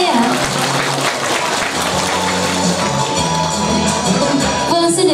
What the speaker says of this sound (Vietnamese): Một tràng pháo tay ạ.